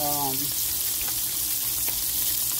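Salmon fillets sizzling skin-down in a hot pan as they crisp, a steady, loud frying hiss throughout, with a short voice heard at the very start.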